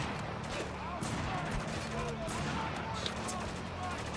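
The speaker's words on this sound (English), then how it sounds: "Keeps shooting me before I can take the shot." Gunfire rattles in Spec Ops: The Line, bursts of shots cracking repeatedly over a constant battle din while a voice talks over them.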